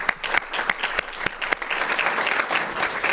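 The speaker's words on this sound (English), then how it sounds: "I want to give you a round of applause." Round of applause from the audience at a school board meeting, a dense steady clapping with sharp individual claps standing out, moderately loud and continuous for a few seconds with no talking.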